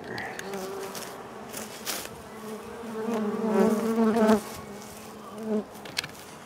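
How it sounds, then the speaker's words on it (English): Dense, steady insect buzzing from a honey bee swarm that has absconded in winter, many bees at once, swelling louder midway and then easing back, close to the listener. "So that's half the bees on the floor. The other half is on top of the tree."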